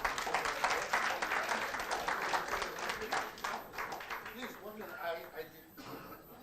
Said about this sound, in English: Please, can we give another round of applause?